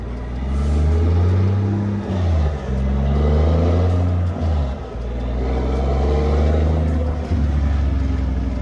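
A heavy truck hauling a load of timber in Forza Horizon drones along with a steady, loud low engine rumble that dips briefly with gear changes and throttle shifts, continuous throughout.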